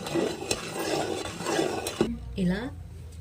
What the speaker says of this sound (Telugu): దీంతో కదిలిస్తున్నాను. ఇది స్టీల్ది కదా, కొంచెం సౌండ్ వస్తూ ఉంటుంది.